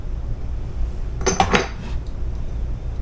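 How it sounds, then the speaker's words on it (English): A utensil clatters briskly against a bowl for about a second as cake batter is mixed, a short burst of scraping clinks standing out over faint room hiss, with no talking. "All right, let's mix this up."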